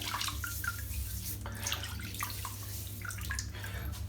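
Bathroom tap water runs and splashes steadily as a man wets his head before a head shave, a continuous close hiss and patter of liquid with some irregular drips.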